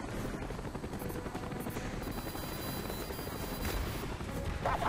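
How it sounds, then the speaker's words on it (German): Helicopters in the video game Call of Duty Black Ops: a continuous rotor thrum and engine drone, steady and fairly quiet, with faint distant battle noise and no talk. "Sie müssen diese Helikopter ausschalten!"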